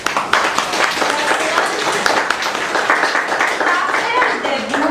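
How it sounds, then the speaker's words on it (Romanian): Audience at a school ceremony clapping steadily, moderately loud and close, while a voice talks over the applause. "Să-i aplaudăm!"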